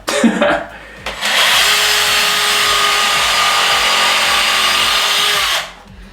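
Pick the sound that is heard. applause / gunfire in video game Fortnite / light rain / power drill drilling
power drill drilling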